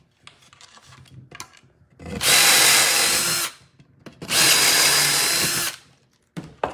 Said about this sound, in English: you can see a good step bit, it goes really fast